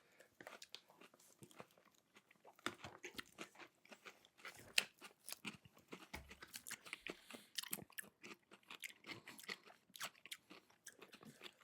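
Crisp crunching and chewing of Amos 4D gummy fish candy, close to the mic, with irregular bites and mastication noises repeating throughout and no talk.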